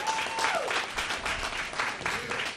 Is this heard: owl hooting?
no